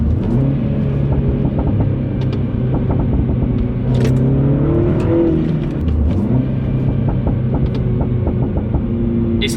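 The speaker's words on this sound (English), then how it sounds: "It pops when you shift up," Mini Cooper S F56 fitted with a cheap eBay exhaust revs loudly and close, rising through gears with sharp crackling pops on the upshifts; no talking.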